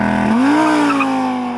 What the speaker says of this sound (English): Let's launch the car.